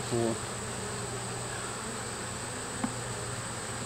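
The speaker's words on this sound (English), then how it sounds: "i told you i had the bees" A steady, low buzzing of bees around a hive hums close by, continuous and even, with a brief tap partway through.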